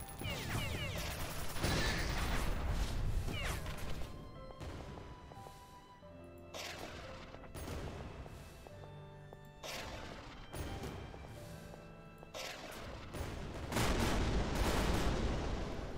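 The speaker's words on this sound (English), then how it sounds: "It shoots one at a time, but you don't need to reload it because it's got four rounds, so to speak." Gunfire rings out in The Citadel video game, with repeated loud booming shots and crashing impacts over a dense, continuous mix of game sound effects that runs throughout.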